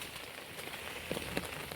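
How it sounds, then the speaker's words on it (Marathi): Heavy monsoon rain in the Sahyadri hills at Pendshet, a dense steady hiss of downpour, fairly faint, with a few louder drops or taps near the end and no talking. "परंतु तितक्याच जोराने पाठीमागं पाऊस येतोय"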